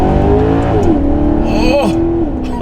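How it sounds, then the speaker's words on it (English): A Maserati GranTurismo engine revs and pulls hard, its pitch rising and falling through gear changes, loud and close with a throaty, rumbling tone. "But still, listen to that engine."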